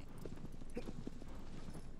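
Horse hooves clip-clopping in the Shadow of the Colossus video game, a steady run of fairly close hoof beats over a constant mid-level background.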